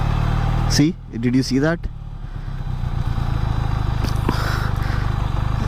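A QJ SRK400 motorcycle crawls along in first gear, its engine a steady low, even thrum close by, with a voice speaking briefly near the start over the engine.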